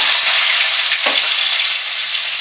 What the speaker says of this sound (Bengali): আর দুটো তেজপাতা দিয়ে দিলাম এবার আমি আলুগুলো এর সাথে দিয়ে দেব